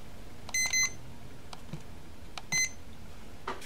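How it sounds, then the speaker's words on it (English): Two short electronic beeps from an iHome Dual Alarm Clock (model iHM46) confirming an alarm is set, then a pause and a single beep, faint over a quiet room hum. "press it one time and it'll beep twice to let you know that that alarm is set"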